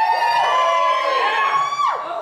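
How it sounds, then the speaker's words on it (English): Wedding guests at a match game cheer and whoop together in a short, loud burst of high-pitched shouting that holds steady and then tails off. "Give me your best cheer if they match"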